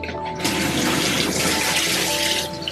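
Tap water runs steadily into a kitchen sink while a small potted house plant is rinsed, a broad close rushing hiss lasting throughout with no talk.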